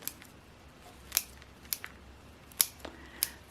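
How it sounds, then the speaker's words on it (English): Scissors snipping through a potted erodium's root ball, several separate crisp cuts spaced irregularly, close and fairly quiet with no talking. "Now I'm just going to go ahead and trim off some of that root ball"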